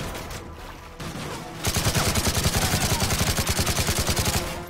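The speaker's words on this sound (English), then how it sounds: "Way too many shots." Gunfire in Call of Duty: Modern Warfare 3, beginning with distant battle noise and then a loud, rapid automatic burst of evenly spaced shots lasting several seconds.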